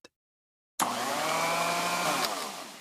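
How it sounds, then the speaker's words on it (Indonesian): After a brief silence, a sanding tool in a car-repair video game starts up on a damaged police car, giving a steady, even electric whir that holds without change. "Sekarang amplas tempat yang rusak dengan alat amplas."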